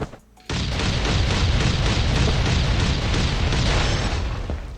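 A heavy explosion in the survival video game Last Island of Survival, a sudden loud blast after a brief quiet, then a long roaring rumble that stays strong to the end.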